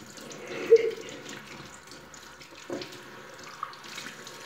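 Tap water pours steadily over a person's head, a soft continuous splashing flow with a couple of louder gushes and no talking.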